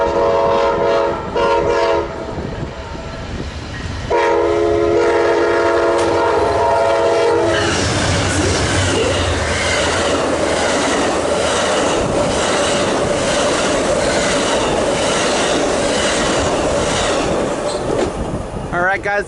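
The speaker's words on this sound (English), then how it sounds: "Alright guys, there goes train 4 to Chicago." Train 4 to Chicago passes close by at Commerce: a few loud, sustained horn blasts, then a steady, heavy rumble and clatter of rail cars rolling past for the rest of the clip.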